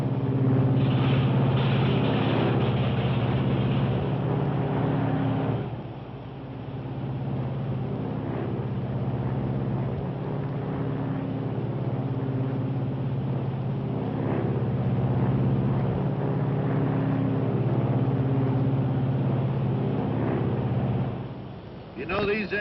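Piston engines of a Lockheed Super Constellation airliner drone loudly and steadily as engine one is brought out of feathering, a deep harmonic hum that briefly dips and shifts early on before settling into a continuous close roar.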